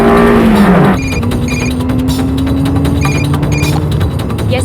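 In a film scene, a speeding car carrying a bomb roars along with a steady engine drone and tire noise, loud and close, after an opening squealing pitch slide.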